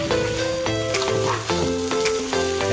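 Chicken fries in a hot pan with a steady loud sizzle, broken by repeated scraping strokes as it is stirred, and no voices.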